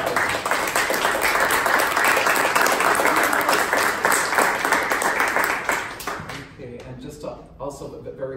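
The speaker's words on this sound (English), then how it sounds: "I think we owe them a round of applause." Audience applause at an art panel discussion hosted by a contemporary art union, steady dense clapping for about six seconds that thins and fades out near the end.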